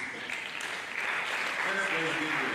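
Audience applauding the Vice Chancellor at a Nigerian university event, moderate continuous clapping filling the hall, somewhat distant and even.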